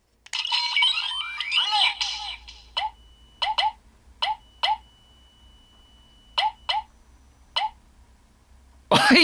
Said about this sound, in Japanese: メッセージがポンポンポンポンって出る効果音がこの時点で鳴るのね